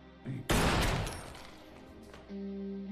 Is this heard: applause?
no